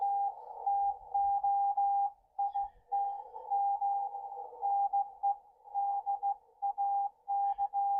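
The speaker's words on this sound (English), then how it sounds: "you'll be able to hear what this sounds like on the end-fed halfway." Radio reception on an end-fed half-wave antenna: a steady tone beeps on and off in irregular bursts, like Morse code, over a quiet background.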